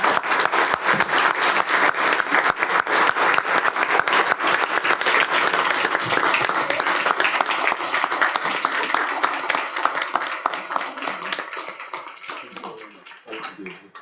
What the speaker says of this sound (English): will everyone join me in a warm round of applause for Caroline?